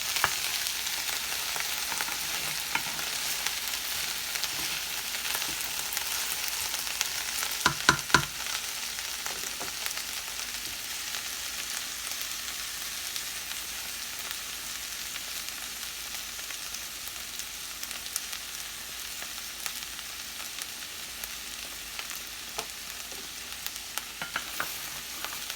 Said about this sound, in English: And I'm only stirring enough so as for it not to burn on the bottom.